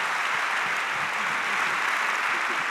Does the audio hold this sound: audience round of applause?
yes